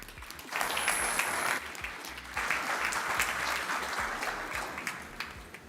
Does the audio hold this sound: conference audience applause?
yes